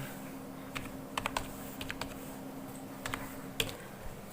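Typing on a computer keyboard while entering names into an Excel spreadsheet, with scattered soft key clicks in small bursts over a faint steady hum, no talk.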